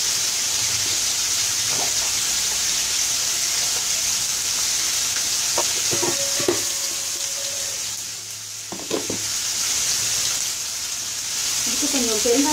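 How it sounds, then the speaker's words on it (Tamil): Mustard seeds splutter in hot oil for sambar tempering: steady sizzling with scattered pops and crackles, and short bursts of sound stand out near the end. "சாம்பாருக்கு வந்து கடுகு வந்து பொரிஞ்சிட்டு இருக்கு."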